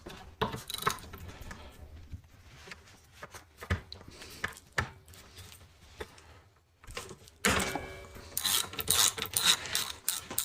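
An Allen key loosens the bolt on a bicycle suspension fork, making a close metallic clicking and ratcheting with short bursts and pauses, busier and louder toward the end.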